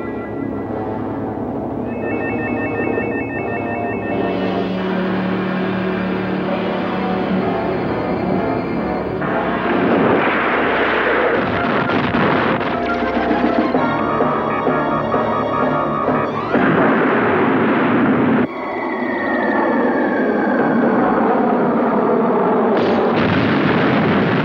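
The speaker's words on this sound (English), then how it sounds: "Bubba, keep firing." Film action scene with blasts, booms and bursts of gunfire layered over a dense, continuous score, loud and sustained with several abrupt changes between shots.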